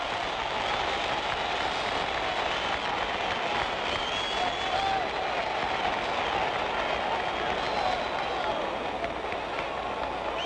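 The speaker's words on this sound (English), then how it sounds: "Crowd is starting to applaud." A large crowd at a 1965 heavyweight boxing match applauds continuously in a dense, distant roar of clapping that holds steady throughout.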